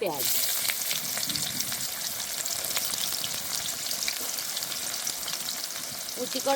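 Chopped onions fry in a pan of oil with whole cumin and cardamom, a steady close sizzle that runs on without pause and rises briefly at the end.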